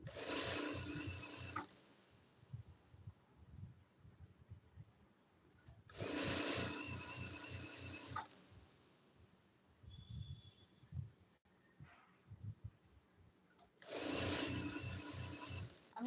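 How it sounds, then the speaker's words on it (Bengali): A sewing machine stitches kameez fabric in three loud, fast whirring bursts with quieter pauses between them, close by, with no talking. "দুইটা কাপড়ের মাথা এক সমান রাখবেন এভাবে সেলাই দিবেন"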